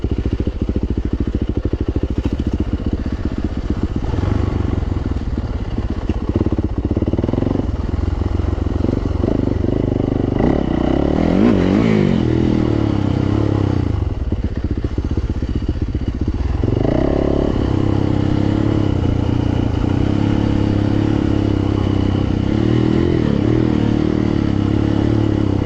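A Yamaha YZ450F dirt bike ridden over rough ground, its engine buzzing and revving in surges with clattering and scraping from the terrain, fairly loud throughout and with no talk.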